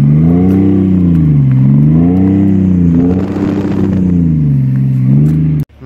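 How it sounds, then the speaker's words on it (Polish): A BMW X5 M50d's exhaust burbles and swells as the engine is revved repeatedly in slow, even waves, loud and close with no talking. "Szybciutko zobaczymy jeszcze na wydechy, jak to bulgocze."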